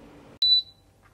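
A single short, sharp beep from an electric induction cooktop sounds once, loud and clear against a quiet room, with no talk.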